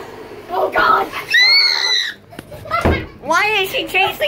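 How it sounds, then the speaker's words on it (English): A woman screeches in short, shrill, wavering bursts at close range, mixed with excited shouting from several people and a knock or door sound. "She just screeched though!"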